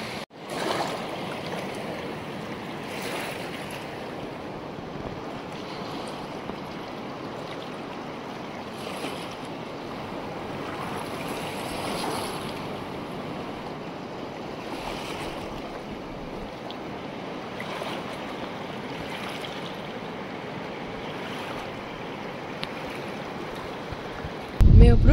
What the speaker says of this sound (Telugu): వాటర్ సౌండ్ అయితే ఎంత బాగా అనిపిస్తుందో.